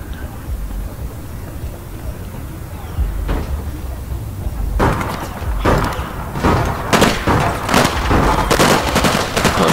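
Gunfire in the APB Reloaded video game, a run of sharp shots and bursts growing denser and louder over background game noise, with brief voices.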